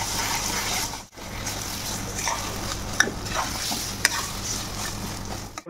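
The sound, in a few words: sautéing the chickpea dal mixture with turmeric in oil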